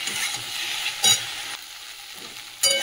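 Okra and potatoes fry in a pan with salt and turmeric, giving a steady close sizzle broken by a few brief louder crackling bursts, with no voices.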